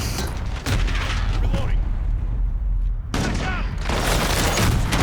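Heavy gunfire in Call of Duty: Modern Warfare, loud and nearly constant, with dense shots, impacts and mechanical reload clatter, and voices talking underneath.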